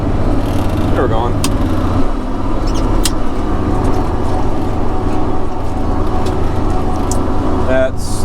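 A farm tractor in 11th gear rolls along at about 5.6 mph while feeding hay, its engine droning loudly and steadily from the cab, with a few faint clicks and rattles over the hum.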